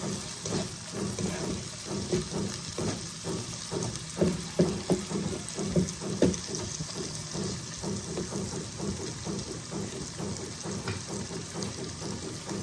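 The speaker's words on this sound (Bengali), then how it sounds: "আঁচ কমিয়ে ভালো করে কষিয়ে নেব।" Chicken pieces with chicken masala frying in a pan over lowered heat, a steady close crackling sizzle with uneven popping that runs on throughout.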